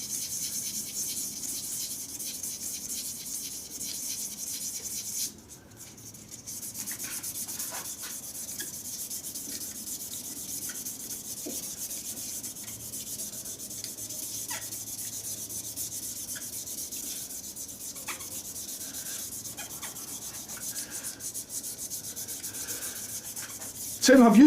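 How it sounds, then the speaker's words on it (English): A turned wooden shaving brush handle rubbed by hand in different directions, giving a steady, close, soft abrasive hiss that runs almost unbroken for the whole stretch, with one short pause early on. "I'll just give this a little bit of a rub in different directions now."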